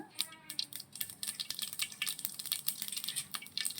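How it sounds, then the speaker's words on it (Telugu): Mustard seeds and cumin crackle and sizzle in hot oil in a pan during potato curry preparation, giving a steady run of close, quiet pops and spits, with faint clinks of utensils. "ఆవాలు వేసాను, జీలకర్ర కానీ వేస్తున్నాను."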